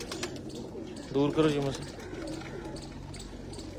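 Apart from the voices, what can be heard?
pigeons cooing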